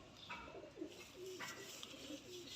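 Pigeons coo softly in a repeated, low rolling rhythm, several calls overlapping at close range over a steady background hiss, with no voices; the birds are two Teddy-type female pigeons kept by a fancier.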